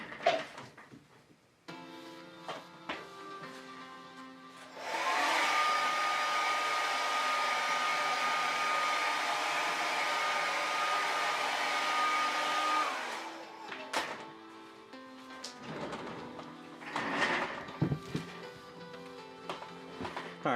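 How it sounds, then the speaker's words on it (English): Blow dryer drying paint on a custom Wonder Woman figure, a steady loud whir running about eight seconds after quieter workshop handling noises, then shutting off into small clatters. "Gonna hit this with the blow dryer real quick."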